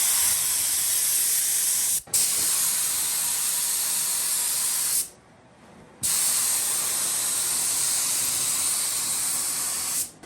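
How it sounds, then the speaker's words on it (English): Paint spray gun spraying panels, a loud sustained hiss broken by a short cutoff and a longer pause before spraying resumes, with no voices. "when the gun's spraying, you got the fan, you're only using the top bit"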